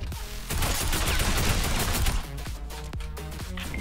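Gunfire in the Fortnite duos video game: a loud burst of overlapping shots followed by several separate sharp cracks, including a sniper rifle shot, close and loud with no talk over it.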